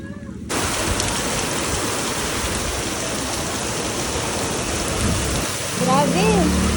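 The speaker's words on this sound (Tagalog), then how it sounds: "Galit na galit na yung ulan" Heavy typhoon rain pours down steadily in a dense, loud roar at a market, with a brief burst of voices near the end.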